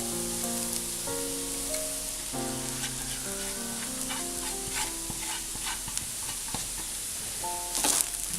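A spoon scrapes and stirs cooked wheat flour upma in a hot oiled pan, with a continuous sizzle and repeated scraping strokes; melodic background music plays throughout and no one talks.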